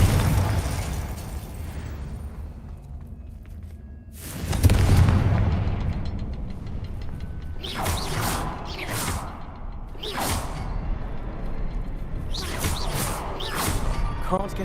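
Fiery explosions from the Confringo spell in the Hogwarts Legacy video game, several sharp booming bursts with whooshing tails spread across the stretch, loud against a quieter ambient game background.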